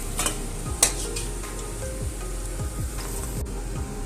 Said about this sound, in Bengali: এগুলো ভাজা হয়ে গেছে। এবারে আমি এগুলোকে তেল থেকে ছেঁকে তুলে নিচ্ছি।